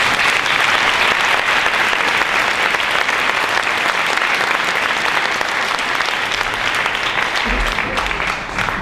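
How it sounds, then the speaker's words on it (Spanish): A sustained round of applause from a sizable crowd at a memorial tribute event, dense and even clapping that carries on for several seconds before starting to fade. "Recibámosla con un aplauso."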